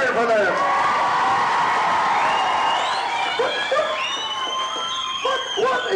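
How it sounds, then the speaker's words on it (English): A school pantomime audience cheers and shouts loudly, children's voices whooping and screaming together in a sustained crowd roar that slowly thins into scattered calls and laughter. "a big cheer for them"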